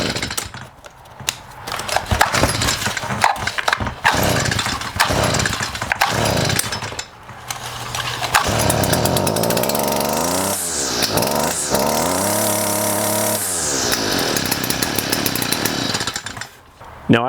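A small outdoor power equipment engine starts by recoil pull after a sticky recoil starter is fixed. A few rough rattling pulls give way to a loud, close running engine that revs up and down in sweeping waves before dropping away.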